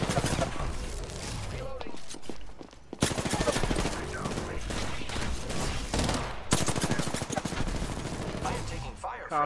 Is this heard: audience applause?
no